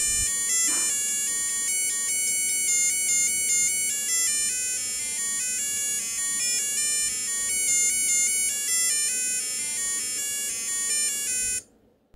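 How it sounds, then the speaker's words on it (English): A tinny, beeping electronic melody plays as the start tune of an Elite River Crossing handheld LCD game, running continuously and steadily for about eleven seconds before cutting off abruptly, close and alone with no talking. "What you just heard was the typical melody for these games."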